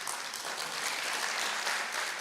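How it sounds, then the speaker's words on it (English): Audience applause for dignitaries on the dais at a youth entrepreneurship event in Odisha, steady crowd clapping throughout, fairly distant and even. "let's welcome all the dignitaries on the dais, of the dais, and all of you with a big round of applause"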